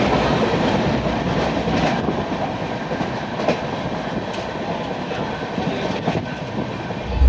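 A superfast express train running from Trichy to Howrah, with a steady, loud rumble and rattle of wheels on rails throughout and faint rhythmic clacks, heard from on board.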